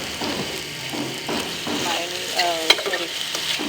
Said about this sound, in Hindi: इसको हमने अच्छी तरह से मिक्स कर लेना है